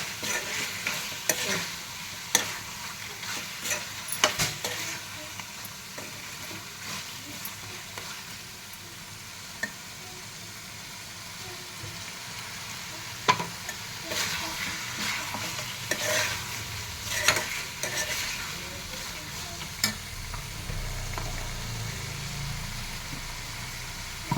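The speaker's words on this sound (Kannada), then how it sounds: "ಸ್ವಲ್ಪ ಶುಂಠಿ ಬೆಳ್ಳುಳ್ಳಿ ಪೇಸ್ಟಿಗೆ ಹಾಕ್ಕೊತೀನಿ." Ginger garlic paste fries in a pan for a head-meat fry, with a continuous sizzle under repeated scraping stirs and occasional utensil knocks against the pan.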